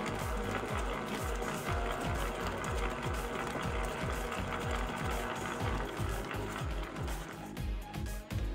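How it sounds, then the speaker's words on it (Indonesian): Electric hand mixer beating durian nastar pastry dough, a steady close mechanical whirr with rapid rhythmic pulsing throughout. "Kita mixer sampai tercampur, lalu kita tambahkan susu bubuknya perlahan-lahan kawan-kawan."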